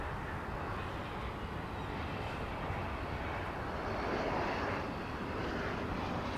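A plane flies overhead on approach near the runway at Dallas Fort Worth airport, its steady engine roar broad and continuous, swelling slightly as it passes close by.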